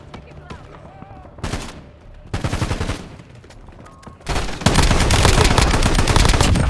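Gunfire in the video game Call of Duty: Warzone: loud bursts of rapid automatic shots in several separate volleys, ending in a sustained heavy barrage, with game voice lines in between.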